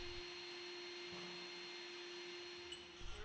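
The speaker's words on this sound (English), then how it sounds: "Using a small wire brush and vacuum, clean the debris in and around each of the drilled holes" A vacuum draws debris from holes drilled in a floor for anchoring a machine, a steady faint whine that runs throughout with no speech.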